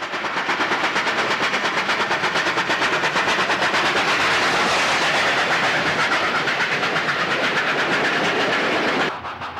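Steam locomotive 3818 hauls the Central West Express through New South Wales near Wallerawang, with a loud, rapid, steady exhaust beat and rolling clatter close by that holds for most of the pass and then drops away sharply at the end.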